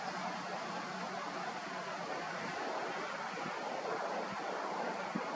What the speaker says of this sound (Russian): Ух ты, смотри, как ветер начинает лютовать